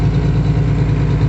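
A farm tractor's engine idles steadily just after a jump start from a skid loader, a loud, close, even low rumble with no talk.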